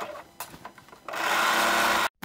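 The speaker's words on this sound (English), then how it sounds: "So now it has us top stitching down that crotch seam" A home sewing machine topstitching close to the edge of the crotch seam on a pair of boxer shorts. After some soft handling and clicks it runs in a loud steady whir for about a second, then stops abruptly.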